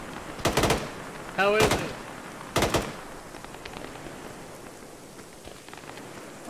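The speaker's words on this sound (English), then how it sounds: "Oh, that's a machine gun." Machine gun fire in an Arma ShackTac operation arrives as a few short, sharp bursts set against a rainy, hissing background. The bursts sound moderately distant, and a voice speaks briefly between them.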